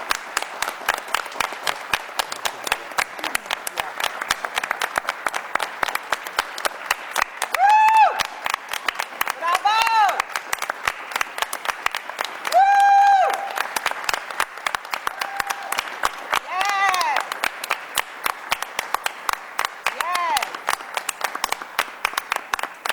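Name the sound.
round of applause for student Jason at school board meeting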